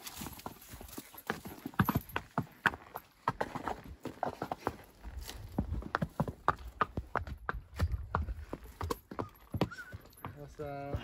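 Hooves clip-clop steadily in an uneven walking rhythm, close and fairly loud, with a person talking now and then over the footfalls.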